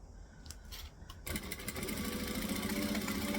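A sewing machine stitches and back stitches on a zipper at a 2.5 stitch length, starting with a few light clicks before running into a steady, close mechanical whir.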